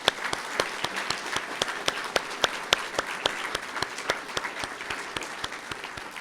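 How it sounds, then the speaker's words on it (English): An audience at an award ceremony breaks into steady applause, with a distinct rhythmic clapping pulse standing out over the crowd's broader clapping throughout. "So I'd like to lead us in a round of applause."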